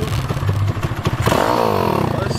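A 50 cc scooter fitted with a 200 cc engine revs sharply when the throttle is twisted, rising from a rattly idle into a loud climbing whine close by, with some clatter, while people speak around it.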